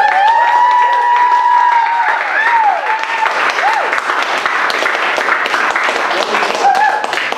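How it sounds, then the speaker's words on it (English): Warm audience applause for an evening talk, lively clapping under loud cheering and whooping voices, with crowd voices layered over the steady patter throughout. "So please give a warm round of applause to our speaker tonight, Phillip Perl."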